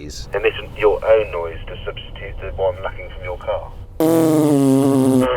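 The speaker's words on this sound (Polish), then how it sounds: "To brzmi jak jeden z odgłosów pierdzenia, które mają w Cybertrucku" A Tesla Cybertruck plays its novelty fart sound effect: a loud, buzzy, droning blast that cuts in abruptly after a stretch of talking and holds steady to the end.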